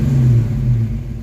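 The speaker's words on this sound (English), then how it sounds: "It is trying to rev limit, but it's not working." A Ford Mustang engine with a failing rev limiter revs hard after backfiring through the exhaust, a loud, steady, droning roar held high, close and alone, fading slightly at the end.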